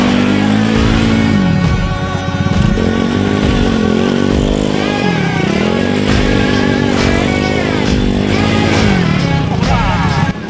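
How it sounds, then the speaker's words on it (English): A flat track motorcycle doing donuts on a dirt track during a riding lesson, its engine loud and close, droning and rising and falling in pitch in repeated sweeps as it circles. "Before we went racing on the track, we first had some lessons how to control the bike. Lesson 1, donuts."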